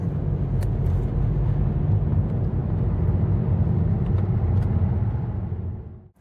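Motorway traffic on the M1 near Leicester, heard from inside a moving car as a continuous low road rumble and engine drone, steady and close, fading out at the very end.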